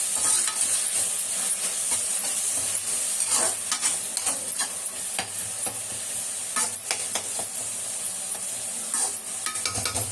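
Onions and tomatoes sizzle steadily in a pan of oil while a spoon stirs them, with scraping strokes and occasional clinks over a continuous close frying hiss for chicken curry.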